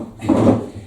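A wooden kitchen drawer slides open or shut once, a short muffled wooden rumble and knock heard close up, with no talking.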